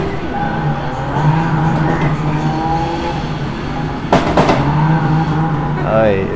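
A car racing arcade game at a VR gaming park plays engine roars and revving, with a sharp skid or crash burst midway, all under someone talking loudly.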